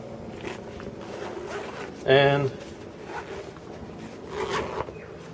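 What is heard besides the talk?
zipper of Vertx EDC pack being opened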